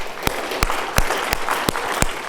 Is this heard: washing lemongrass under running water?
no